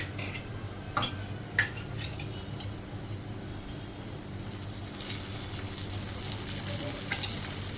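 Potato slices shallow-frying in a pan, a soft steady sizzle with a couple of sharp utensil taps early on and the frying swelling louder toward the end, no voices.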